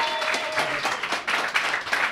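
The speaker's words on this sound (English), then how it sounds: "Everybody clap." An audience claps at the UCB Theater in New York City during a live taping, producing a dense, continuous wash of applause that holds steady for about two seconds.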